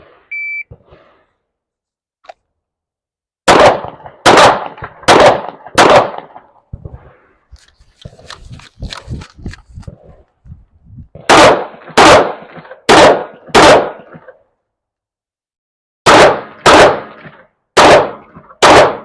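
MK18 rifle fired during a timed shooting drill: tight bursts of four sharp, loud cracks, repeated three times with pauses between, preceded by a short timer beep, with quiet voices in between.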